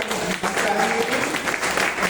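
Enthusiastic audience clapping at a gathering, dense and fairly loud throughout, with voices mixed into the crowd noise.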